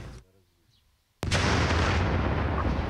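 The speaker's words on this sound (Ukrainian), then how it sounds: "зараз буде відбуватися контрольований підрив" Controlled detonation of explosive ordnance by sappers clearing mines and shells in the Kyiv region, a sudden loud distant blast after a faint voice, followed by a long heavy rumbling roar.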